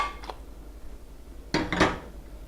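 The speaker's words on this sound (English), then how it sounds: "I'm going to just flip it into the pan." A prosciutto and olive frittata flipped into a pan, heard as a brief soft clatter of a pan and utensils, a quiet tap followed a moment later by two closer knocks and a scrape.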